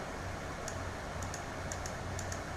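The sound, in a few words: computer mouse clicking while editing in Picnik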